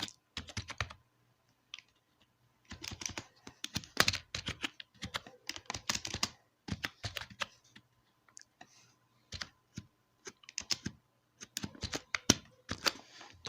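Keys clatter on a computer keyboard in quick, irregular bursts of typing with short pauses, close and fairly quiet, with no talking.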